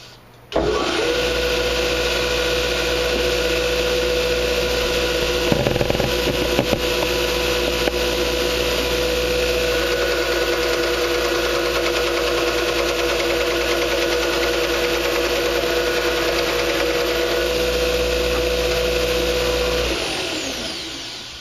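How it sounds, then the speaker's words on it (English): A knife-making belt grinder on a no-weld frame kit spins up, runs at steady high speed with a constant loud whine and hum for about twenty seconds, then winds down. "that little motor right there does a very excellent job. It's got some speed on it."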